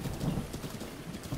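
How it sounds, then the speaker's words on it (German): Rain falls steadily in Zelda Breath of the Wild, a soft, even patter with faint low rumbling underneath, fairly quiet and without talk. "Und es war klar, dass es hier regnen muss."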